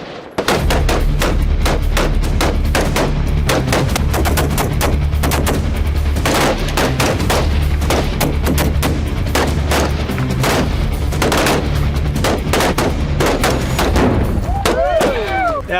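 Rifle shots and an exploding Tannerite target at an outdoor range, a dense run of sharp cracks and thumps fired throughout, loud and near, with people's voices mixed in.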